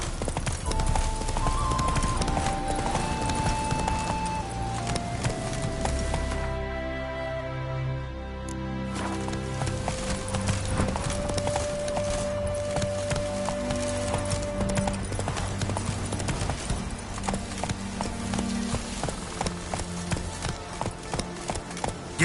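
Roach, Geralt's horse in The Witcher 3: Hearts of Stone, trots with a steady clip-clop of hooves over layered game music, breaking briefly before resuming.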